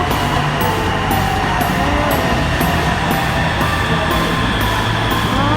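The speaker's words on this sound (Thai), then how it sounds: "โอ้รถไฟมาแล้วรถไฟมาแล้ว" Purple Line electric train pulling into a station, a steady loud rumble of wheels and motors with a rhythmic beat of periodic clatter throughout, filling the platform without any talk.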